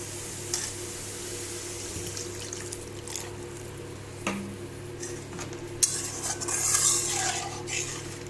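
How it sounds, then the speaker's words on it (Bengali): Water poured into a pan of cooked white and black mustard masala, a soft steady hiss and gentle sizzle that swells into a louder splashing rush near the end, fairly close. "এবার এর মধ্যে আমি জল দিয়ে দেবো।"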